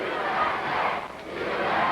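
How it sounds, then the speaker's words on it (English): Wrestling crowd in a packed Portland arena, a dense roar of many voices rising and falling in a chant, fairly loud and continuous. "And the crowd, of course, chanting USA."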